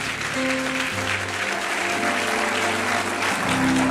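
A church congregation applauds loudly and steadily, with sustained organ or keyboard chords droning underneath.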